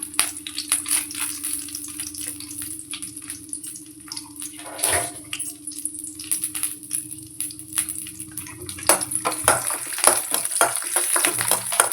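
Garlic and vadagam frying in sesame oil in a pan, a steady close sizzle with faint crackles and a few sharper clinks or stirring knocks, no talking.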